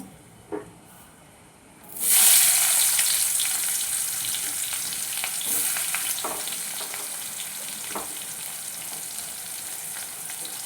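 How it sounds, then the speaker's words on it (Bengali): Chopped onion goes into a pan of hot oil with chilli, cinnamon and cardamom for an oyster curry. After a quiet start and a single clink, a loud sizzle bursts in close, then settles into steady frying with occasional stirring. "লঙ্কাটা ভাজা ভাজা হলে আমি এর মধ্যে কুচনো পেঁয়াজ দিয়ে দেব"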